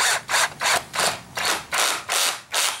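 A drill drives a screw into a thin wooden frame for window Christmas lights in seven or eight even, rhythmic bursts, loud and close, with short pauses between them.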